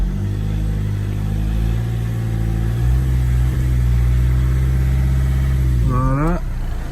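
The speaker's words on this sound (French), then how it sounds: "De temps en temps mettre quelques coups de gaz que ça tourne, que la pompe à eau elle brasse." Idling BMW 320d E46 diesel engine, mid-repair during a thermostat change, hums steadily close by with a low harmonic drone, then gets a short blip of throttle near the end that briefly raises its pitch.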